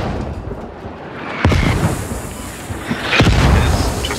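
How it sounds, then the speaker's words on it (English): Mortar rounds landing in a squad-based military shooter, two heavy booming impacts a couple of seconds apart over a low rumbling battlefield background, loud and close. "They're mostly mortaring"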